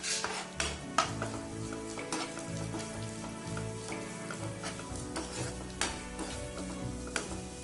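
Crushed garlic cloves and dried chilli stirred into chicken frying in a pan for butter chicken sukka, with steady sizzle, scraping spoon strokes and occasional sharp clinks of utensil on metal.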